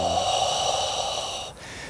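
A slow, deep inhale during a guided breathing exercise, a soft steady airy rush lasting nearly two seconds, close and quiet with no talking.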